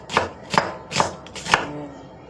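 A knife chops ingredients for Kapampangan burong isda, such as garlic, ginger, onion and tomato, on a board: four crisp, evenly spaced strokes, close and clear, with no talk.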